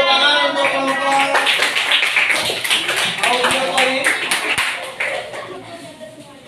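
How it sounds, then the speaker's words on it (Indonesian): A classroom audience gives a presenting group a sustained round of applause. The many hands clap densely and loudly for several seconds while voices speak over the clapping. "Tepuk tangan untuk kelompok"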